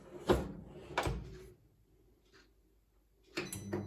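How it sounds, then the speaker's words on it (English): A Cosori pressure cooker air fryer door being shut: two close, solid clunks about a second apart, followed by a quiet pause and a softer click-and-rattle near the end. "Now I'm going to close the door."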